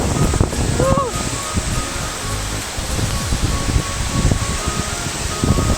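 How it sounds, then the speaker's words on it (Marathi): Vadoli waterfall near the Gujarat–Maharashtra border roars in a constant, loud rush of water, close by, with a brief voice near the start. "खूप मोठा धबधबा आहे इथं जवळपास जवळून बघितला"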